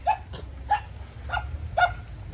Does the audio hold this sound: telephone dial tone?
no